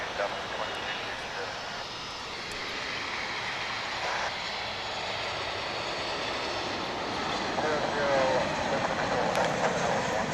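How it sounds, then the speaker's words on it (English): An American Airlines jet on approach to land at DFW International Airport, arriving from Mexico City, its broad engine roar steady and fairly close, swelling slightly toward the end over constant background noise. "Here is American Airlines Flight 1066 coming in from Mexico City."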